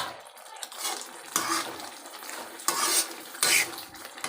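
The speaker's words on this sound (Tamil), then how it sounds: "இந்த மிளகாத்தூள் போட்டு மிளகாத்தூள் ஸ்மெல் போகிற வரை நல்லா கிளறி விடுங்க" Chili powder for crab curry is stirred in a frying pan: uneven, close spoon scrapes come in several louder sweeps over a soft sizzle, and nobody speaks.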